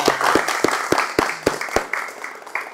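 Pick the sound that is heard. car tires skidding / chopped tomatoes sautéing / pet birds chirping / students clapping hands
students clapping hands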